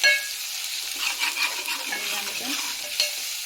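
Mutton being stirred with turmeric in a hot oiled pan for a Telangana mutton curry, a steady close scraping and sizzling with soft utensil strokes, no talk.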